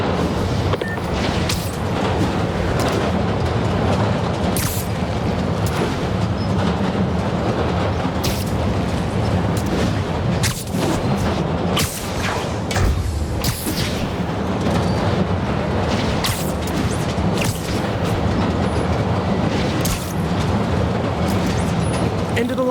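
Subway train in Marvel's Spider-Man Remastered, a continuous loud rumble of rolling wheels with repeated sharp bangs and clatters throughout, with voices talking over it.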